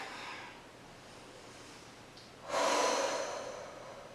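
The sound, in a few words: deep breathing during Pilates child's pose stretch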